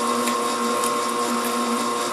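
A mixing machine whirs steadily as it speeds up, blending a whipped shea butter souffle; the motor drone is loud, close and continuous with a strong tonal hum and no talking.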